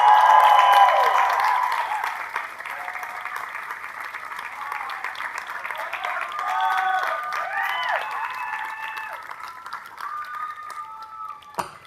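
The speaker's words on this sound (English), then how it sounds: "Let's give another round of applause for Bob Weiss." Audience applause at a 2018 College of Environmental Design commencement ceremony, a dense burst of clapping that peaks at the start and then settles into steady sustained applause with some cheering, fading near the end.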